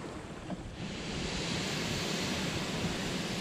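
A geothermal steam vent in Iceland hisses continuously, a loud broadband roar that swells after the first second and holds steady, close to the microphone, with no voices.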